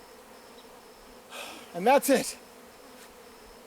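Bees buzz faintly around a newly installed hive on a ranch in April, a low steady hum beneath a short stretch of someone talking nearby.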